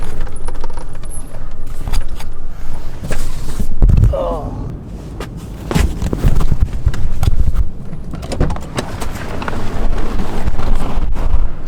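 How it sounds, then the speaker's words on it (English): Strong wind buffets the microphone on a beach in the Oceano Dunes at Pismo Beach, a steady low rumble throughout with gusts swelling and easing, while a person talks intermittently over it. "So it is so windy right now."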